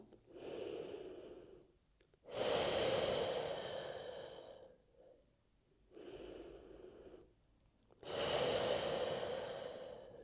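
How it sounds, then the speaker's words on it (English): Slow, deep breaths during a yoga twist stretch for lower back pain, two long inhale-exhale cycles heard close and alone, each swelling then fading with quiet gaps between. "2 breaths here."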